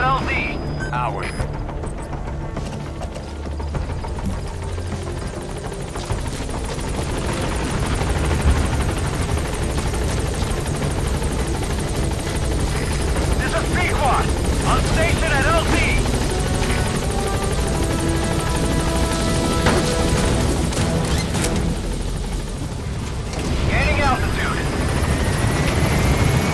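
Pequod helicopter from Metal Gear Solid 5: The Phantom Pain arriving at a landing zone, a steady loud rotor and engine drone running throughout with radio-style voices talking over it.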